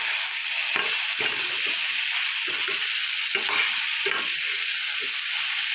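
Bitter gourd fries in a pan for a Bengali charchari, giving a steady close sizzle broken by repeated scraping stirs, with no talking.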